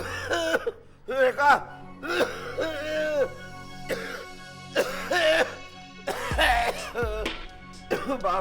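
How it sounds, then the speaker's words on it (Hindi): A man coughs and clears his throat in repeated hoarse, strained bursts, one after another at close range, with a few short vocal sounds between them. "कितनी खांसी हो रही है आपको"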